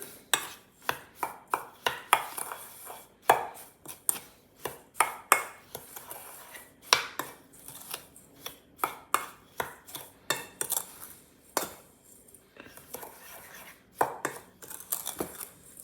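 Stuffing for Sicilian stuffed calamari, a fairly dry mix with a dash of olive oil, being stirred by hand: a steady run of sharp utensil clicks and scrapes against a bowl, close and alone without talk.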